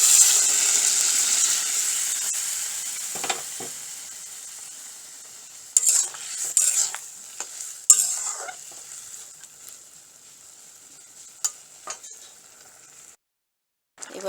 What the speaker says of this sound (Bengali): এই ছোলার ডালটা এতে দিয়ে দেবো।